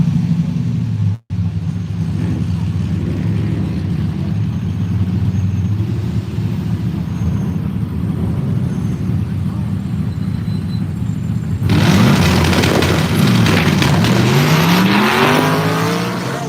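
1988 Chevrolet Camaro in the left lane at the Woodburn drag strip, a loud steady engine roar throughout that swells and brightens near the end as it pulls hard down the strip.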